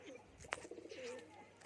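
Pigeons shut in a loft give soft, faint cooing with one brief sharper chirp, heard low and close in a quiet space.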